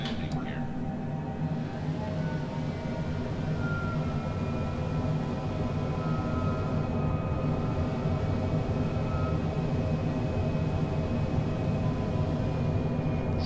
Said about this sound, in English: These jet engines are very powerful, so I don't need as much thrust as I thought.